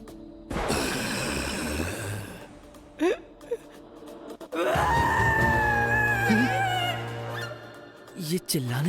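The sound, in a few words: screaming of someone under attack, anime episode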